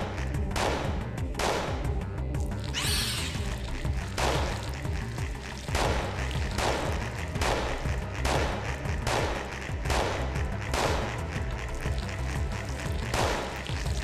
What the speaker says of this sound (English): Stop firing, Aya.